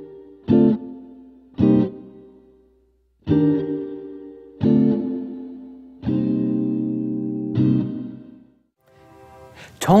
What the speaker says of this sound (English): It gives you more reverb relative to the original sound.